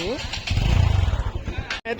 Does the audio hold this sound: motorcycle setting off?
yes